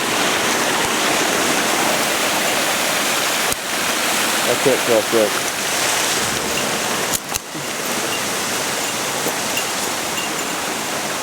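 A river rushes through the woods in a loud, steady roar of water close by, with a few footsteps and knocks over stones along an abandoned trail, and someone speaks briefly over it.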